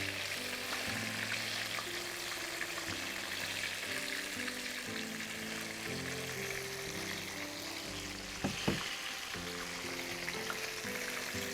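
Apple jalebi frying in hot oil until light brown, a steady loud sizzle that runs throughout, with a low tonal hum beneath and a couple of brief clinks near the end.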